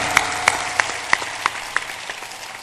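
Scattered handclaps from an audience at a Hindu spiritual discourse and bhajan gathering, about six distinct claps spaced irregularly over a low background murmur, fairly near and moderately loud.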